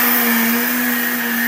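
A kitchen blender grinds glutinous rice with coconut cream for sapin-sapin. The high, steady motor whine and churning roar are loud and continuous throughout.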